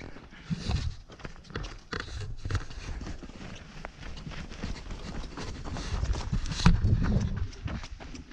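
Horse hooves clop on hard ground in an uneven, hurried rhythm, mixed with rustling and movement noise close by, on a mountain trekking trail.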